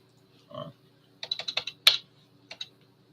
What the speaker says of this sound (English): Now I'm just typing shit in the Facebook comments.